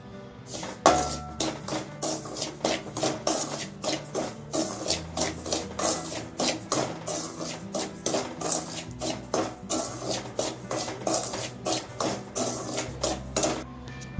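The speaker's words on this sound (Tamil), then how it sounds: "நான் 1/4 கிலோ ரவை எடுத்திருக்கேன். லைட்டாக வறுத்துக்கணும்." Semolina dry roasting in a pan while a spoon scrapes and knocks against the metal in a fast, regular rhythm, loud and close throughout, no talking.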